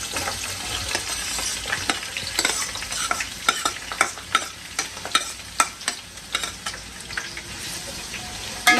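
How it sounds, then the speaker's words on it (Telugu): Onions frying in a pan for a Rajasthani laal maas, crackling sizzle with a run of rhythmic stirring scrapes that grow more regular toward the end, close and fairly loud, no voices. "ఆనియన్స్ మొత్తం గోల్డెన్ కలర్ అయిపోవాలి, అంటే అంత ఫ్రై అవ్వాలి"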